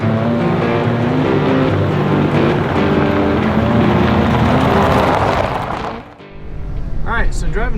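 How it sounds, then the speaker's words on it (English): A Toyota 4Runner rolls down a long driveway, its engine and tyres giving a loud, steady rumble with a rattle from the front end, then dipping briefly before someone talks over the noise. "Alright, so driving down the driveway here."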